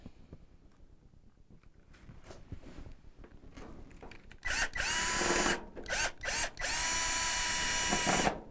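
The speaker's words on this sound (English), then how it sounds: "you'll attach that to your drill" A power drill whirs in several loud bursts, stopping and starting, driving screws back into the bottom of a Maytag washer, after a stretch of quiet handling noises.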